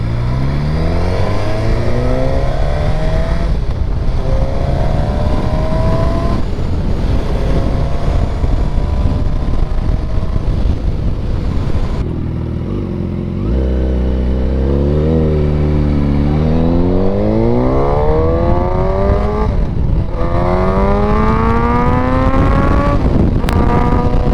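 A Suzuki motorcycle with a K5 engine revs hard with a loud, throaty aftermarket exhaust, pitch climbing and falling through repeated throttle blips and gear changes, close and continuous.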